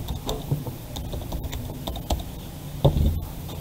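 Computer keyboard typing in PowerPoint, a close run of quick uneven key clicks with a louder clack near the end, and no talk.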